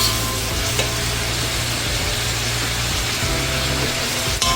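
Mongolian beef being stirred in a pan, with a constant dense sizzle and occasional utensil scrapes, close and steady throughout without speech.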